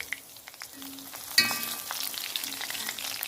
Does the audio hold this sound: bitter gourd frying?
yes